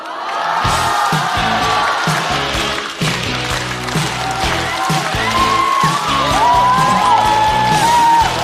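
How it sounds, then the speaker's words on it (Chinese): A studio audience at a stand-up comedy show applauds and cheers loudly for an arriving comedian, a dense, continuous wash of clapping with whoops and shouts throughout. "掌声欢迎大鹅。"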